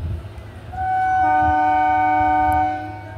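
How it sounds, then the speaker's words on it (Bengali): A train horn sounds a sustained multi-tone blast over low rail rumble, close by at Dankuni Junction station, then fades as the train pulls away. "এই ছেড়ে দিল ট্রেনটা বারুইপাড়ার উদ্দেশ্যে।"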